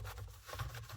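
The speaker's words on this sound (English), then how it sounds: "Another scrub up here." Scrubbing a vacuum cleaner part by hand, giving a faint, soft, steady rubbing sound with a few brief swishing strokes at close range.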